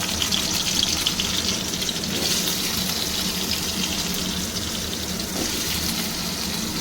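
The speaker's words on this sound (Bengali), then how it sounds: "কড়ার তেল গরমও হয়েছে এই যে আলু কেটে রেখেছি আলুটা একটু ভেজে নিচ্ছি" Cut potatoes frying in hot oil in a wok, giving a steady, dense hiss and crackle throughout, close and fairly loud with no talk.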